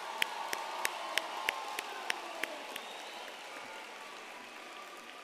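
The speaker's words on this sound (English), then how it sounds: "let's give all of our graduates a big round of applause" Graduation ceremony audience applauding the graduates, a steady wash of clapping with some sharp isolated claps early on, fading gradually as the clapping thins out by the end.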